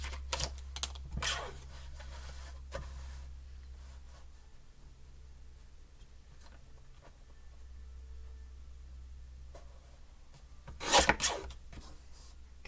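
Scissors cut paper for a handmade tag and holder, with a few close, crisp snips at the start and a louder rasping cut near the end, separated by a long quiet stretch.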